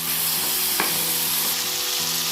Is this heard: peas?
yes